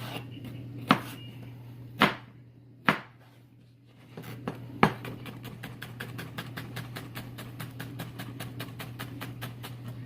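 A knife chops the last piece of cucumber on a cutting board steadied by a wet towel: a few separate sharp strikes, then a fast, even run of close chops over a steady low hum.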